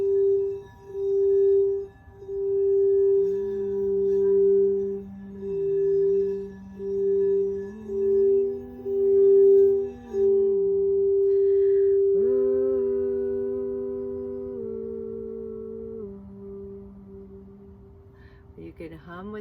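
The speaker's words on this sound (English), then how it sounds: "let the sounds of the bowl move through your body" A singing bowl rings with a steady, pure sustained tone that swells and fades in pulses, while a low human hum drifts along beneath it.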